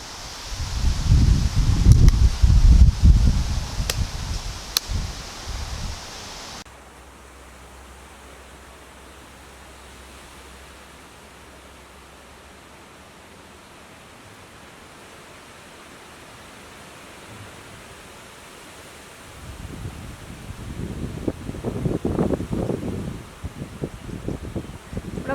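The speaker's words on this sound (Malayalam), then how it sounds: "ഭയങ്കര കാറ്റ് വീശിക്കൊണ്ടിരിക്കുക കേട്ടോ. ചില നേരത്ത് ഭയങ്കര കാറ്റ് വരും." Strong outdoor wind comes in gusts, loud rushing bursts at the start and again near the end, with a long stretch of softer steady hiss between them.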